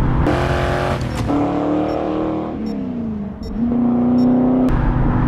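A powerful Ford GT500 engine roars loudly as it accelerates through gear changes on a bridge, the pitch climbing, dipping and rising again, close and continuous.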